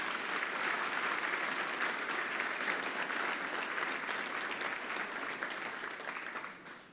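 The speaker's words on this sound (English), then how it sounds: "soak in the applause that is so richly deserved" At a fundraising dinner, a large audience applauds retired Air Force colonel Ken Rizer, a sustained wash of clapping that holds steady before tapering off at the end.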